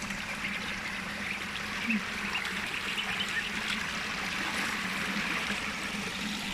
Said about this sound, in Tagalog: mga duckling